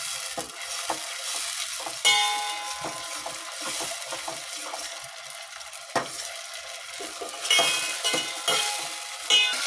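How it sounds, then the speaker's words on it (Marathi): Tomato paste sizzles and fries in oil in a pan over a low gas flame, with steady close crackling and scraping stirring strokes recurring throughout. "छान बारीक गॅसवर परतून घ्यायचं आहे।"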